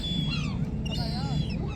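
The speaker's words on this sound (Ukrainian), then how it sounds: "І ось дві чайки прилетіли." Two gulls, a white-grey adult and a brown juvenile, give repeated sliding calls over a steady low background murmur.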